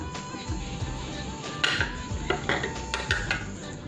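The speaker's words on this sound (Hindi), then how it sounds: "अब हम इसको मिक्स करेंगे" A spoon stirs vegetable manchow soup with vinegar in a metal pot, giving scattered clinks and scrapes over a soft steady background, with a few sharper knocks against the rim.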